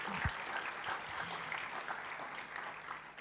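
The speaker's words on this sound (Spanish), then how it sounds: "¿cuántos dan un aplauso a ese remanente fiel?" A church congregation gives faint, distant applause, a soft continuous patter of many hands with no voices standing out.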